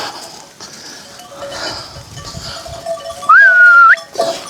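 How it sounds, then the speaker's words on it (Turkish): Sheep arriving in a walnut orchard, one loud nearby bleat standing out over footsteps and a faint bell clink, with soft background rustling. "Geliyor koyun sesi. Koyunlar geliyor."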